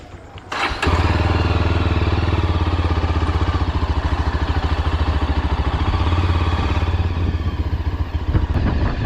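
A motorcycle engine catches and fires up close by, then runs at a steady, rhythmic chug for several seconds on a ride out to Srisailam just after rain.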